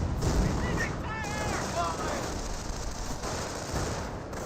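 Gunfire and battle noise in Company of Heroes, a World War II strategy game, as rifleman squads come under fire; a dense, steady rattle of shots with someone talking over it.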